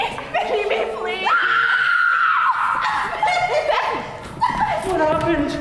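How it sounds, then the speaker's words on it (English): A girl screams shrilly and repeatedly in a live stage play of The Crucible, her wails and cries rising and breaking over frantic overlapping voices of other actors. "She heard you singing and suddenly she's up and screaming."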